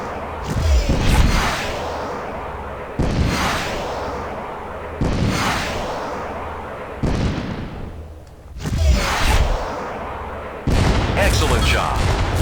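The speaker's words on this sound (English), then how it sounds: "Now, unload your harpoons until you've destroyed Transport 3." Harpoon missiles in the space combat game Freespace 2 launch at a transport in repeated heavy booming volleys, about five loud blasts each followed by a rumbling decay, with brief gaps between.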